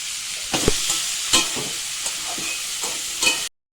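Pumpkin pieces and pumpkin greens frying in a pan, a steady close sizzle broken by several scraping stirs and clinks of a spatula, then an abrupt stop near the end, with no talk.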